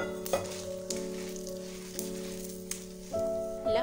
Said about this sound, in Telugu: ఈ ఎండుమిర్చి కొంచెం కలర్ చేంజ్ అయ్యే వరకు ఫ్రై